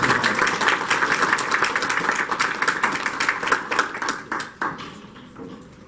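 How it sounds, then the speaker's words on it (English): A crowd at a community forum applauds with dense, steady clapping that holds for several seconds, then thins out into a few last claps and fades. "let's give them a round of applause."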